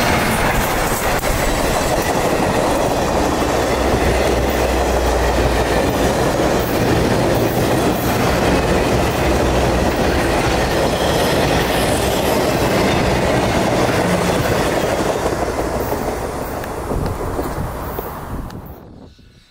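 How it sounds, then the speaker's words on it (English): U.S. Sugar steam locomotive 148 hauls a passenger train through rural Florida, a loud, steady rumble of rolling wheels and clattering cars that continues without a break before fading away at the end. "148 kept chugging along with no time to waste."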